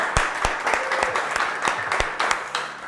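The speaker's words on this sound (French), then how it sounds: "Et ça, on peut tous applaudir d'ailleurs." A small group of office staff claps together in a workplace, the sharp individual claps distinct and close, fairly loud and uneven, with a few voices underneath.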